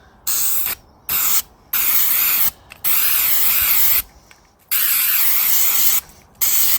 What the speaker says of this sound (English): Spray in the gaps.